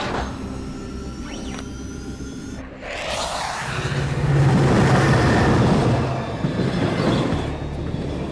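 A cartoon train rumbles past with a rising, roaring rush of wheels and carriages that swells loud in the middle and gradually eases, following a quieter stretch of mechanical clatter.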